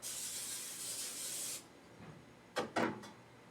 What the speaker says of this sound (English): Spray around this here.